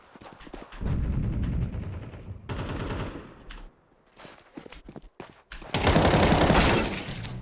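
Rapid automatic gunfire in a tactical shooter game, several loud sustained bursts with brief silences between them and scattered single shots.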